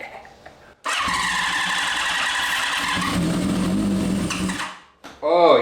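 A scrap motorcycle engine cranks and catches, running steadily with a buzzing, fluttering tone for about four seconds before dying away, followed by a brief voice.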